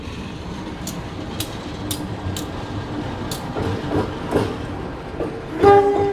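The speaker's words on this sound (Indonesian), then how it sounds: "Itu ada lokomotif baru datang ya teman-teman." A locomotive arrives along the railway at a station, its low rumble building under steady background noise, with sharp repeated clicks and a brief horn-like tone near the end.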